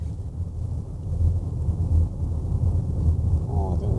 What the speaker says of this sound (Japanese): ロードノイズが若干大きいけど、それやっぱエンジンかかってないから気になっちゃうんだな。